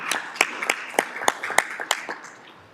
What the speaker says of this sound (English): And I think is deserving of applause, Mr. Lautzenheiser.